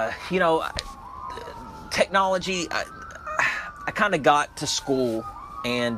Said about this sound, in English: You can hear the sirens going off here outside in Lexington.